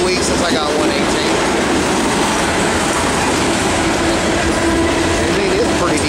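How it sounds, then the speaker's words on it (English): Norfolk Southern freight train 118 rolls past close by on the Piedmont Division's Charlotte District, a loud continuous roar of railcars with clattering wheels and faint squeals throughout. "it's a pretty decent train today"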